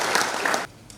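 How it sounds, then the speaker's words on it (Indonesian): Applause from an audience at an Indonesian community outreach session on illegal excise goods: dense, steady clapping for about two-thirds of a second, then it drops off sharply to a quieter tail. "Tepuk tangan untuk kita semuanya."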